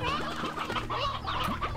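Chickens clucking in the video game Slime Rancher 2, a dense, close chorus of overlapping clucks and chatter from several birds filling the whole moment.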